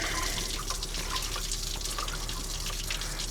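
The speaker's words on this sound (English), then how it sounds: "Well, there goes our coolant," Coolant draining out of a Cummins engine at the cylinder liner, a steady close splashing trickle with dripping patter, continuous and unaccompanied by speech.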